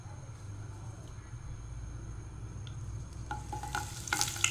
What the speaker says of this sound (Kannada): ಬೆಳ್ಳುಳ್ಳಿ, ಕರಿಬೇವನ್ನು ಫ್ರೈ ಮಾಡ್ತೇನೆ.